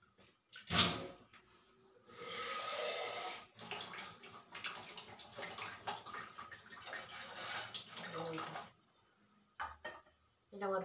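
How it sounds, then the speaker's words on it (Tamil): Water splashes and pours into a metal pot holding soaked sago for payasam, several bursts of running water separated by pauses, with the clink of the pot and brief voice-over talk. "போட்டுட்டு கொஞ்சம் தண்ணி ஊற்றணும்."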